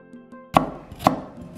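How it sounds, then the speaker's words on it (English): Two sharp knife chops on a cutting board as onions are diced in a home kitchen, spaced about half a second apart, close and distinct, with faint background hum and no talking. "So chop your onions"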